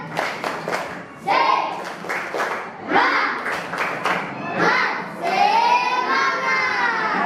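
A classroom of pupils does the 'tepuk semangat' spirit-clapping chant with their female teacher, a loud, close burst of rhythmic group claps and shouted chanting voices in quick patterned bursts, ending in a longer cheer.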